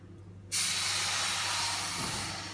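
Water pours into a pan while mango squash is made, starting abruptly as a loud, steady hissing rush that slowly fades a little over two seconds.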